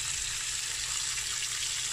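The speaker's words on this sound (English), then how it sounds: "So, yung sizzle na yan is what you want" Steak sizzling in butter in a pan, a dense, constant hiss of frying fat that stays close and even throughout, with no voices.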